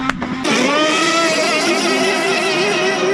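A nitro-powered R/C hydroplane races on water, its tiny engine screaming at a high, steady buzzing pitch close by after a brief sharp start, loud and alone with no talk.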